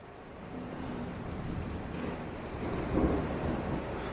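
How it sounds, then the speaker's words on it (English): A nighttime thunderstorm with rain brings a faint, steady wash of rainfall under low, rolling thunder that swells in a deeper rumble toward the end, heard distantly without any talk. "It's just thunder and lightning and rain."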